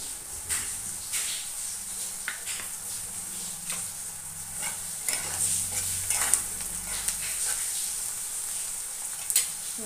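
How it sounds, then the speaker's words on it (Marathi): Chopped onion sautéing in a pan for a Marathi home-style dish, a steady close sizzle and frying hiss with a spoon stirring and scraping through it, no talking. "पहा, कांदा छान परतून झालेला आहे"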